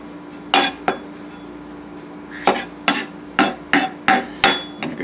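A knife chops fresh garden rosemary on a cutting board in a home kitchen, giving about eight sharp, close knocks in an uneven rhythm with short pauses between them.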